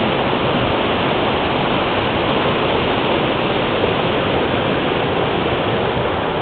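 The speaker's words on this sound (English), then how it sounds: "usually there's not this much water flowing here." A creek runs unusually high near Chester Bowl, its water rushing in a loud, continuous, close roar that holds steady throughout with no voices over it.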